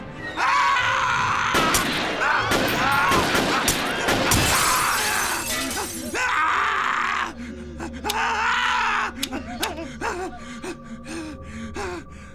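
Gunshots fired at a Shinigami in an anime scene, loud sharp cracks and crashing bursts mixed with dramatic music and gasping voices, followed by a run of rapid single sharp shots.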